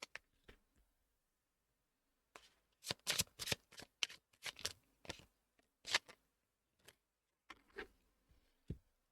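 Tarot cards being shuffled close to the microphone, crisp riffling bursts and slaps arriving in irregular clusters with quiet gaps between them.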